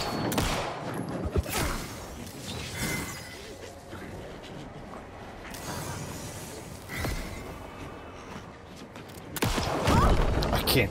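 Gunfire from a scopeless gun in the survival horror game Alan Wake 2, a few sharp shots and bursts scattered across a noisy in-game soundscape, with heavier blasts near the start and end.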